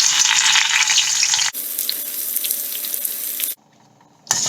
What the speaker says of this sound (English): I'm going to fry the curry leaf and put aside.